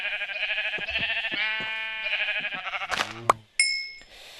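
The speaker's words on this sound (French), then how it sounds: "On va déjà tuer des moutons." Sheep in a survival video game give several repeated bleats close by, followed by a few sharp game chimes and clicks near the end.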